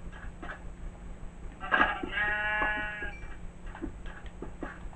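A single drawn-out sheep bleat in Minecraft, wavering and fairly clear, rises over a quiet background of faint ticking clicks.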